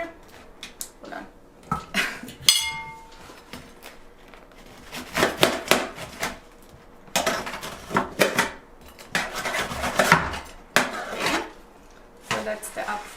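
A knife cuts through a freshly baked homemade Austrian apple strudel on a board, giving scattered close scraping and clinking knocks of blade and utensils against the dish, in irregular bursts with no talking.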